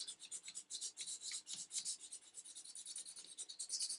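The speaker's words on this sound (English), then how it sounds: "put it on and sand everything while it's on, and it'll finish up smooth" Sandpaper rubs in quick, repeated back-and-forth strokes over a wooden gun stock fitted with a Bakelite butt plate, a close, dry rasping that keeps an uneven rhythm with no talk.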